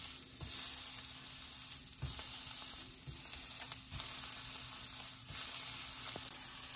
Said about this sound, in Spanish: Vamos a darle vuelta y con la misma espátula démosle unas cuantas palmaditas para que no se haga chiquita la carne